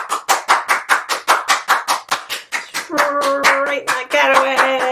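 Crisp, close hand claps in a steady quick rhythm, roughly a dozen, then continuing over a bright tonal chime or music in the final seconds.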